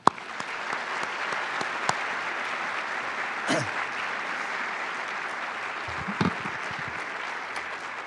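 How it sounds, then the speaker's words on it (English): An audience applauds a visiting author at a book talk with steady, sustained clapping that fills the hall at moderate loudness, with a few faint sounds rising briefly above it. "Please join me in one more round of applause for Candice."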